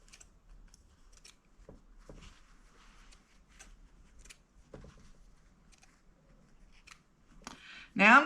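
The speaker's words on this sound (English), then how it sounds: "Now that we have those all stitched, I'm going to cut them apart." Fabric scissors snip apart chained, stitched potholders, a run of sharp separate cuts at close range followed by a louder burst near the end.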